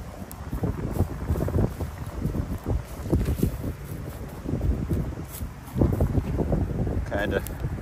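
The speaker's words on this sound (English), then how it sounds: "it's extra windy over here." Gusty wind blows by the water near picnic tables, uneven rumbling bursts across the microphone that swell and fade in waves, close and moderately loud, with faint background sounds and no clear speech.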